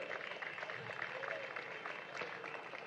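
Audience clapping fills the hall at a Palm Sunday Passion Play held at Holy Family church, a steady, dense patter of many hands that holds at an even level throughout, with a murmur of voices mixed in.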